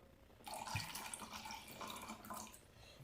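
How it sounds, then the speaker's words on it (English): Water pours steadily into a measuring cup in a home kitchen, a soft splashing trickle lasting a few seconds, close and faint, with no talking. "And then I'm going to do a half a cup of water."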